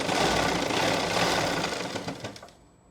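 An electric sewing machine stitches the front belt of elastic-back pants, a loud rapid mechanical whir that runs steadily and then stops abruptly near the end.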